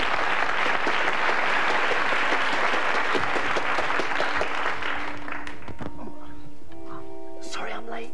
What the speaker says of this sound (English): Ladies and gentlemen, a big round of applause for Gloria Honeyford!